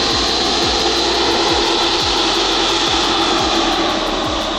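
A Freewing MiG-29 twin 80mm EDF radio-controlled jet roars past in a loud, steady whine of ducted fans, with rhythmic whooshing pulses as it passes close overhead.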